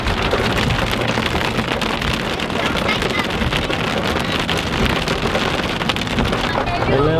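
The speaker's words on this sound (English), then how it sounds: "Kids wanted to see hail, so here we go." Hail pelting down at Mount Rushmore, a dense, steady hiss and patter of ice striking surfaces close by, continuous and loud with a touch of wind buffeting, no talking.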